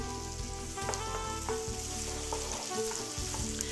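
Food frying in a large sauté pan, a loud, steady sizzle with occasional stirring scrapes throughout, no voices.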